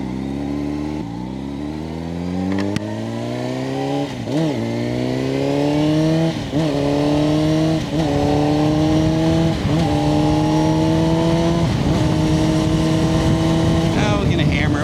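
A quad's engine revs hard through repeated upshifts as it accelerates on takeoff. Each gear climbs in pitch, then briefly drops. The engine is loud and close, with a wind-buffeted roar underneath.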